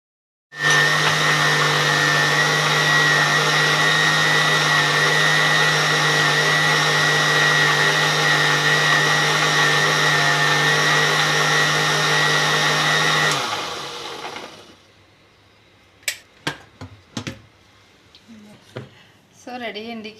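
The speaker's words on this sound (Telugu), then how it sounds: "ఇప్పుడు వీటిని అన్నిటిని కూడా మిక్సీలో వేసుకోవాలి." A mixer grinder blends boiled carrots for lassi with a loud, steady motor drone for about thirteen seconds, then winds down, followed by a few sharp clinks and clatters of the jar.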